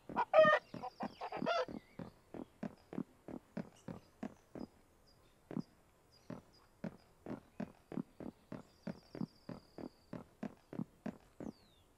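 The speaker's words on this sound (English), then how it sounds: "Chicken." A chicken in the survival video game Hold Your Own clucks in a steady run of short, rhythmic pulses, fairly faint, with a few louder squawks at the start.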